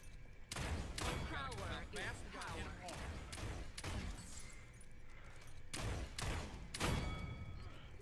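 Lian's weapon in the video game Paladins fires in rapid bursts of sharp, punchy gunshots, with volleys repeating through the stretch and a few gaps between them.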